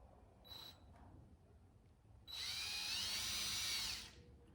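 A cordless drill drives screws into a 2x4 piece of lumber, one steady high whine lasting under two seconds after a brief earlier blip, close and fairly loud over a quiet room.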